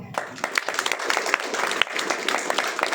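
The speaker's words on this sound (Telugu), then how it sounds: "వాళ్ళకి ఒకసారి చప్పట్లు కొట్టండి గట్టిగా" An audience at a public meeting claps loudly, a dense spread of overlapping hand claps with scattered sharper slaps, sustained and fairly close throughout.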